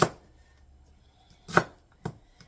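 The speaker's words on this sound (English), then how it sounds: "now I'm chopping them into even smaller pieces." A knife chops celery into small pieces on a board, with a few sharp, separate cuts spaced apart in a quiet room.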